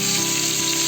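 Marinated fish slipped into hot oil sizzles loudly and continuously, a dense close frying hiss with no pauses and no voices.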